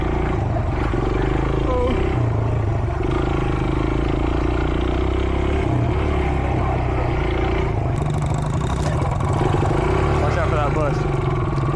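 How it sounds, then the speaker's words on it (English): A small pit bike engine buzzes and revs continuously nearby while being ridden over rough ground, with a voice talking over the constant mid-pitched drone. "He's ripping that little bike."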